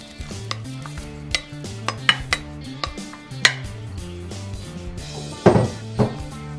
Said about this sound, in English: Now we're going to put this diced up beef in here.